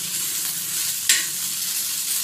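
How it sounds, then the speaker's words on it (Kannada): Okra and curry leaves frying in hot oil give a steady, close sizzle that runs throughout, with one brief sharper hiss or scrape about halfway. "ಎರಡು ನಿಮಿಷ ಚೆನ್ನಾಗಿ ಫ್ರೈ ಮಾಡ್ಕೊಂಡ್ಬಿಡಿ"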